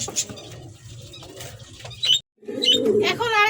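Pigeons loose on a farm coo and flutter, close calls scattered among rustling and light patter, with a brief quiet gap before the cooing resumes more strongly.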